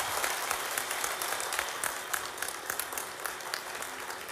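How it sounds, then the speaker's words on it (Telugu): An audience at a graduates' MLC election meeting gives steady, dense applause to welcome candidate Anji Reddy, many hands clapping at once and heard somewhat distant and fairly quiet, with no talk over it. "ఒక్కసారి గట్టిగా చప్పట్లతో మనకు స్వాగతం పలుకుతుంది"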